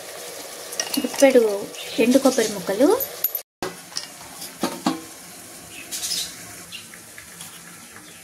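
Vegetables with tomatoes frying in a pan for a mixed vegetable curry, a soft sizzle with stirring clatter and a brief gap, under a voice talking.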